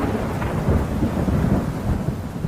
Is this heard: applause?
no